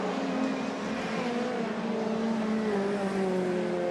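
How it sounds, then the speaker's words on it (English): Race cars on a track mid-race, a steady sustained engine drone with rising pitch as cars push on, heard at a distance with constant roar and no voices. "Dickey spins himself out."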